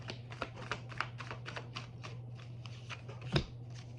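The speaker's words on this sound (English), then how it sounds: "Let's shuffle here." Cards being shuffled in a rapid, rhythmic series of soft riffling flicks, close and quiet over a low steady hum.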